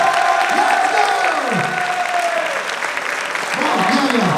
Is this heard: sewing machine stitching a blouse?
no